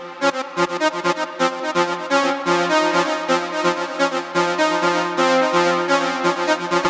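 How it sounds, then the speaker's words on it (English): An Afterlife-style synth lead pulses in quick rhythmic stabs that shift in brightness as filter automation sweeps, busy and loud with no voices. "It's a really nice synth, very Afterlife sounding."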